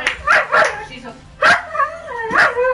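A dog barks at a cat indoors, sharp yips and barks repeating in short bursts, loud and close, with a few whimpering tones between them.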